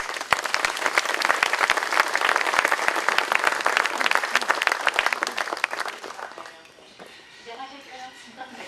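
Audience applause welcoming a speaker at an Ajijic Open Circle gathering by Lake Chapala, Mexico: dense, steady clapping from a sizeable crowd that thins and fades out near the end, leaving scattered claps and room noise.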